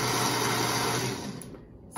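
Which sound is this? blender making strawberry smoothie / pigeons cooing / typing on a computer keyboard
blender making strawberry smoothie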